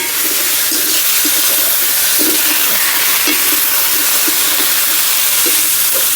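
Flat beans tipped into hot spiced oil in a pan, giving a loud, steady sizzle and hiss that never lets up, with small bubbling pops scattered through it.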